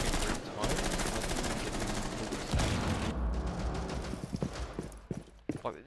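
Sustained automatic gunfire in a video game team deathmatch, loud rapid bursts that give way to scattered single shots near the end, with some voice mixed in.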